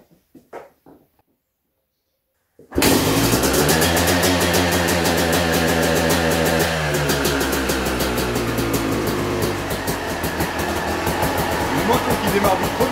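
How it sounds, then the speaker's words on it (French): A Yamaha YZ 250 two-stroke motorcycle fires on the first kick after a quiet pause with brief talk, then runs loud and steady close by, revving slightly and idling roughly to the end. "Une moto qui démarre du premier coup comme ça"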